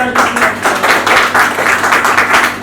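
A marketing meeting audience claps together in loud, rhythmic bursts, a crowd of hands beating in unison several times per second throughout.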